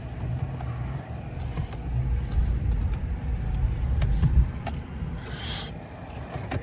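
A four-wheel drive truck drives through deep blizzard snow with a steady, loud, rumbling engine drone that swells and eases slightly, mixed with crunching and whooshing road noise and no talking.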